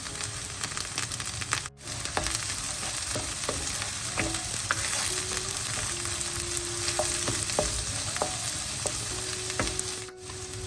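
Soaked chana dal fries in hot oil for rava upma, a steady, close sizzle with scattered pops and stirring clicks, briefly cut out twice.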